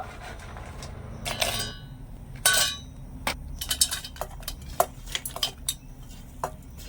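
Clinks and clatters of a spoon on a metal mixer jar as fried chana dal fritters for motichoor laddu are tipped in, in short uneven bursts over a low steady hum, fairly close.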